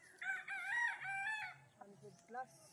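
Game-farm fighting cocks crow close by, one long wavering crow followed by shorter clucks and a second, briefer call, while faint voices murmur underneath.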